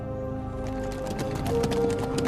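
Rapid hoofbeats of several horses galloping close by, a steady thudding rhythm with a faint high tone running underneath.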